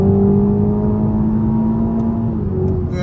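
A 2023 Toyota GR Supra with the 2.0-liter turbocharged engine pulls hard under acceleration, a loud steady engine drone holding across the clip with no talk.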